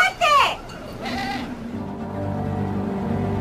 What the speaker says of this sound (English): You just whistle and the goats answer back again